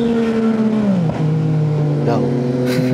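Yamaha XSR 900 motorcycle engine droning steadily while riding, its pitch dipping then climbing again as the bike changes speed, with a loud, continuous tone and wind noise throughout.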